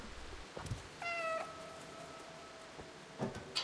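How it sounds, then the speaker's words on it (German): A black cat in the video game Stray gives a single short, clear meow over a quiet background, with faint soft clicks and bumps around it. "Oh, da ist die schwarze Katze da unten."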